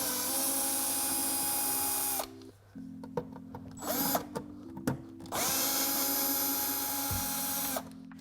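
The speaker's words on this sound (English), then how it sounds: "we need to remove the screws off the front of the controller to access that." Power screwdriver whirring in long sustained bursts as it backs screws out of the front of a Fisher audio and wifi controller, with short clicks and handling knocks between runs, loud and close with no talking.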